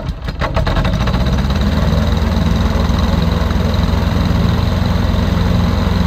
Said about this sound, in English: Shelley was able to fire the engine up and go through some of its history.